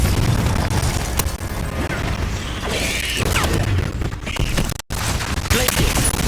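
Fire spells blast repeatedly in the Hogwarts Legacy video game, a dense run of loud booming bursts and crackling impacts over busy game sound, with a brief dropout near the end.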